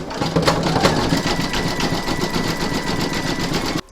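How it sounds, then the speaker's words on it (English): An embroidery sewing machine stitches a zigzag around a segment of an in-the-hoop stacked Christmas tree, a steady rapid mechanical chatter at close range with no talk, stopping abruptly just before the end. "then you're going to stitch round number 8, and that's going to do the zigzagging around the second segment"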